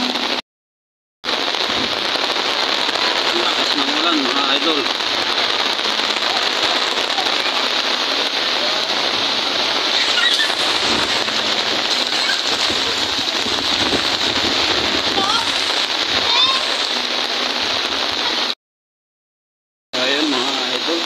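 Heavy rain pours steadily onto a flooded street, a dense, close hiss of water on the surface that fills the whole stretch, with two brief drop-outs into silence near the start and end.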